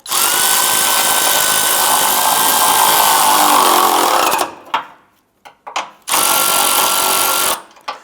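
Power tool snugs down bumper bolts on a 2005-2010 Chrysler 300 impact bar, running in a long whirring burst, then short stuttering bursts and another sustained run, close and loud.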